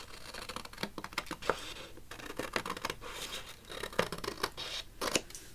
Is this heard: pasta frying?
no